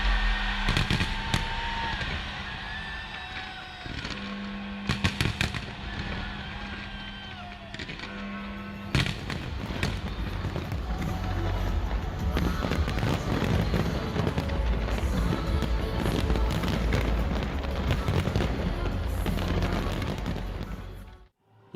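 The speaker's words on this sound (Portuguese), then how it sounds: "Um impressionante show de fogos na roda gigante London Eye reuniu cerca de 100 mil pessoas" New Year fireworks show at the London Eye, booming bursts and crackling explosions building into a dense continuous barrage before a sudden stop, with crowd noise underneath.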